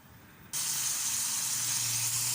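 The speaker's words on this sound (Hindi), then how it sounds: "ये हमारी भिंडियाँ जो है वो फ्राई हो रही है।" Okra and green chillies slit and stuffed with tamarind paste hit a hot pan, and a loud, broad sizzle starts suddenly after a quiet half-second, then holds steady.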